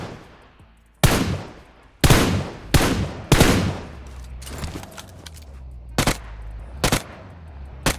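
Gunfire in the PUBG Mobile battle royale game, with several sharp, loud shots spaced about a second apart, some in quick pairs, over a low background rumble.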